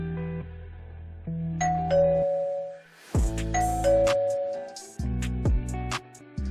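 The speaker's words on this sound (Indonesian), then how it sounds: "Chen Fan datang dan segera memencet bel di pintu rumah" Electronic doorbell chiming a melodic ding-dong pattern at a house door, the tones ringing out loud and clear in two repeated phrases with a brief gap between them.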